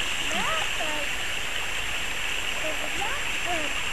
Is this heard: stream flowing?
yes